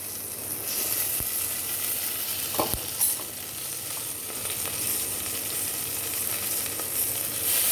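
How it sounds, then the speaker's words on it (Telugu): Okra frying in a pan for grandma-style sambar, a dense steady sizzle and crackle, close and continuous, with a couple of brief stirring knocks and no speech. "సాధారణ బెండకాయ తొందరగా ఉడుకుతుంది, కానీ ఆ జిగురు పోయేందుకని మనం కొంచెం బెండకాయను మొదలు వేసుకొని ఒక్క తిప్పేసి"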